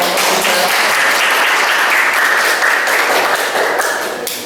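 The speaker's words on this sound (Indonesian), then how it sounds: "Beri tepuk tangan buat" A classroom audience claps loudly and steadily after a group finishes its presentation, a dense burst of applause that fades slightly at the end.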